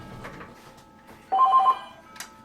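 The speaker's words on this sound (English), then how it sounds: "Oh, there goes the phone." A telephone rings once in a room where a model ship is being assembled, a short burst of steady electronic ringing, fairly loud and close, with quiet background before and after.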